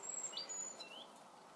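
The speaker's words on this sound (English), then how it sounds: "the birds are singing" Birds sing in the rain in the green Somerset countryside near Glastonbury Tor, with a few faint, high chirps and whistles over a soft wash of rain.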